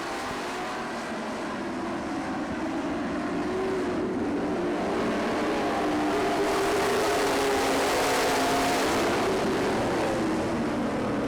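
Race cars roar together in a 25-lap Grand National A-main at a dirt track, a dense, sustained engine drone that swells slightly as the field passes, loud and continuous with no talk.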